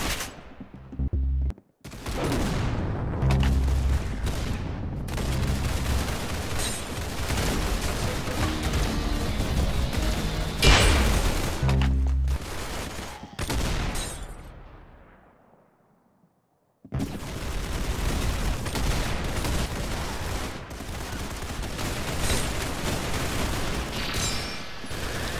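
Rapid gunfire and bursts of shots fill a round of the Roblox shooter game Arsenal, loud and nearly continuous, with a brief drop to near silence in the middle before the shooting resumes.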